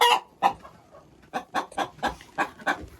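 A hen in a henhouse clucks in winter as she heads off to lay an egg, a close, loud series of sharp clucks, a couple spaced apart and then a quicker regular run of about seven, with no talking.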